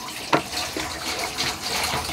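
Water poured into a container as the first step of making homemade liquid dishwashing soap, a steady close splashing and gurgling stream with one brief sharper splash near the start and no talking.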